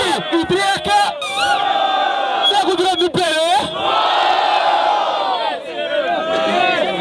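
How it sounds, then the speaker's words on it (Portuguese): Crowd at a freestyle rap battle in São Gonçalo roaring and cheering loudly, with whoops and yells from many voices rising and falling throughout. "Barulho quem gostou da rima do freestyle de Drek e frio"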